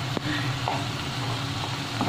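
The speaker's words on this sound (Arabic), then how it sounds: "نحرك هاد الحوت ديالي هكا مع ديك الثومه" Fish pieces and garlic sizzle hard in a hot pan, with a steady crackling hiss and a few soft scrapes of stirring close by and no voices.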